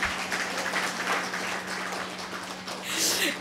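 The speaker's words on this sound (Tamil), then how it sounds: "இப்ப நீங்களும் கைத்தட்டினாதான் எனக்கும் நல்ல" Applause from an audience at a Tamil public speech, a steady diffuse patter of clapping over a constant hum, swelling slightly toward the end.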